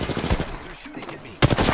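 Enemy gunfire in a Pathfinder match of a shooter game, with rapid automatic bursts close up mixed with game sounds and some voice, ending in a sudden louder volley.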